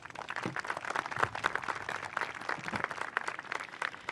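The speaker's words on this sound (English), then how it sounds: "giving them a round of applause" An audience applauding at a high school graduation ceremony, a sustained patter of many hands clapping at moderate distance, fairly quiet and even throughout.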